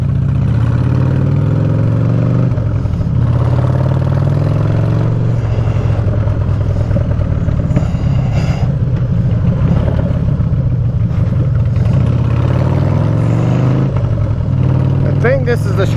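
A 2004 Harley-Davidson Dyna Super Glide FXDI motorcycle on a test ride, its loud, steady low engine rumble running throughout with slight shifts in pitch as the rider eases on and off the throttle.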